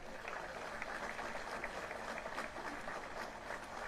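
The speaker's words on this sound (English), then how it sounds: "let's give them a round of applause" Steady applause from a crowd at a police officer's memorial on Lorain Avenue, Cleveland, a dense patter of clapping that holds evenly for a few seconds, heard from some distance.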